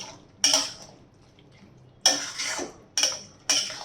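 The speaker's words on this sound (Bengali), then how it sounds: "ভালো করে নাড়িয়ে আবার আমি এটা ঢাকা দিয়ে দেব।" A spoon stirs tomato chutney in a pan, making four sharp metallic clinks against the rim in irregular bursts, each with a short ringing tail, close and moderately loud with quiet gaps between.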